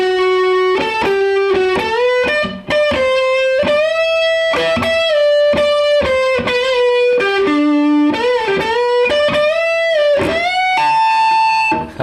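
A heavily distorted electric guitar plays a solo, a melodic lead with bends and quick note runs, loud and sustained throughout, no talking.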